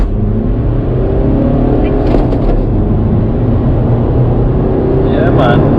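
A Volkswagen Golf GTI or GTD accelerates hard in a 0-60 run, its engine a loud, steady, heavy drone heard close from inside the cabin. A voice speaks briefly over it near the middle and again at the end.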